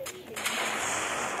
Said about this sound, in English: Is this nuclear bomb so powerful?